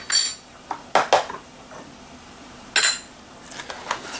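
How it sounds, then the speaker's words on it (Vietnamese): Spoon clinking and scraping against a bowl in short irregular bursts while ground beef is mixed with pepper, close and moderately loud, with quiet gaps between strokes and no talking. "chúng ta bắt đầu trộn lên"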